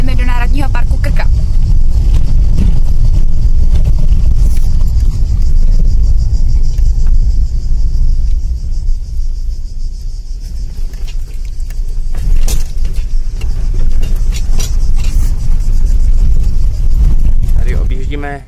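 A car drives along a Croatian road, leaving a scenic viewpoint and heading toward Krka National Park. A loud, steady engine and road rumble continues throughout, with the level dipping briefly midway.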